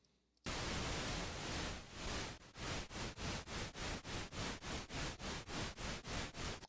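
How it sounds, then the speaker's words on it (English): A steady electronic buzzing tone from a Moogerfooger MF102 ring modulator at slow speed swells and dips in a slow, even tremolo-like pulse, the volume throbbing rhythmically about twice per second. "The ring modulator itself, set at the slow speed I've got here, is like a tremolo on a guitar amp."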